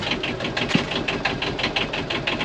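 A boat engine runs at idle with a rapid, even knocking pulse, steady and close, carrying a slight rhythmic chug throughout with no talk over it.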